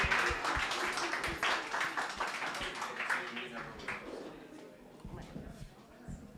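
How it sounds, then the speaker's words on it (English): An audience at the FilmGate Festival gives dense, continuous applause for Chris Lopez, mixed with cheering voices, loud at first and slowly fading. "A round of applause for Lopez"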